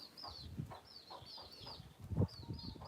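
Chickens cluck and squawk close by as they wait to be fed, with repeated short calls, soft scuffling and a louder burst near the end.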